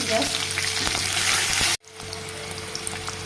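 Onions with a little salt frying in a pan, a loud, dense sizzle that runs steadily, then cuts off abruptly partway through before a quieter sizzle resumes.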